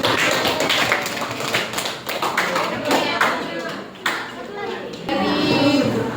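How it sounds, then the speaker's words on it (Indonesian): A vocational high school science classroom breaks into applause for a student group, with a burst of sharp overlapping claps and taps, fairly close, mixed with voices talking. "tepuk tangan untuk kelompok"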